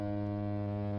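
A ship's horn in the Great Ace Attorney game sounds one steady, deep, loud blast that holds without a break for the whole moment, with nothing else heard.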